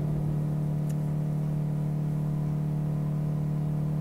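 An Opel Astra H engine in Euro Truck Simulator 2 holds a steady, loud, continuous drone at a constant pitch while the car cruises a straight road, unable to gain more speed, with the oil warning lamp lit.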